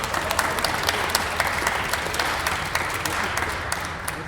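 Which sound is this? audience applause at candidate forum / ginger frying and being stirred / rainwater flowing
audience applause at candidate forum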